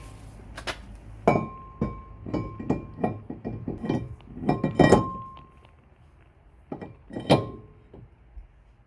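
Metallic clinks and thunks ring out as a Brembo floating brake disc is handled and seated onto the hub of a BA XR8 Falcon, a string of close, uneven knocks with a brief pause before a few final taps.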